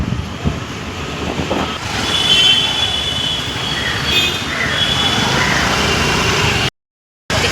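A steady, dense roar of jammed street traffic in Mulund: idling engines and road noise blend into a constant rumble, with a faint passing tone midway, before the sound abruptly cuts out for a moment near the end.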